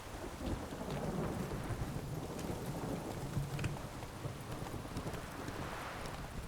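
Steady rain patters down in The Witcher 3: Hearts of Stone with rumbling thunder rolling underneath, a dense continuous stormy wash with faint clopping hoofbeats of a horse mixed in.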